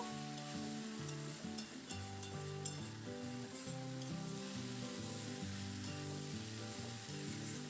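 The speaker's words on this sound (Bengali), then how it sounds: "তারপর চিংড়িটা দিয়ে আমি আবার একটু নাড়াচাড়া করে আলু পেঁয়াজগুলির সঙ্গে ভালোভাবে মিশিয়ে নেব" Shrimp sizzle and fry with potatoes and onions in a pan, a steady hiss with a few soft stirring scrapes early on, heard under a continuous layer of background music.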